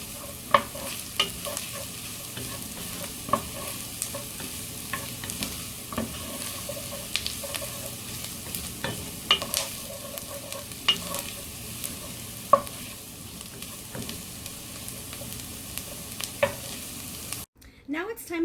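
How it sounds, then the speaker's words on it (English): Fresh minced ginger stirred as it fries in a pot for mulligatawny soup, a soft steady sizzle broken by repeated scraping clicks of the utensil against the pot, close and without talk, ending abruptly. "And we're going to stir these around"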